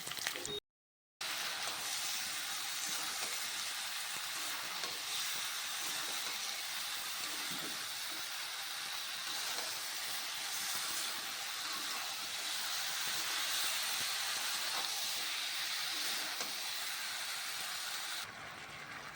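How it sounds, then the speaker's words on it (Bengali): Potatoes and onions frying together in a pan for an egg curry with cauliflower, giving a steady, loud, even hiss that runs almost unbroken from start to finish after a brief silent gap near the start, with no talking. "আলু আর পেঁয়াজ তো চলো আমি এটা একটু ভেজে নিই"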